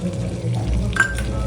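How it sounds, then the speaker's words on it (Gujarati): Curd being stirred into a spice paste in a pan on the stove gives a soft, wet sizzle with light scraping and one brief clink of a spoon against the metal. "દહીં અને મસાલો મિક્સ થઈ જાય ત્યાં સુધી આપણે એને હલાવતા રહીશું"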